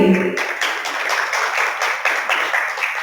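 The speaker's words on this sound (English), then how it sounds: "So let's give a round of applause to the Punjab Business Award" An audience at the Punjab Business Award ceremony breaks into applause, a steady wash of many hands clapping that holds evenly throughout, moderately loud and close.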